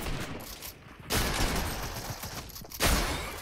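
A rapid burst of laser gunfire from a mythic ray gun in Fortnite, loud and sustained, with a second surge near the end over game noise.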